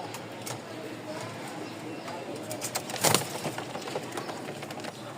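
Racer pigeons coo and flutter nearby while someone talks over them, with a brief burst of wing flapping midway.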